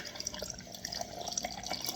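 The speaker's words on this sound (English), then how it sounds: "why don't I take this glass of ice and pour my drink" A drink is poured into a glass full of ice, giving a quiet, continuous trickle with small crackling pops and drips from close by.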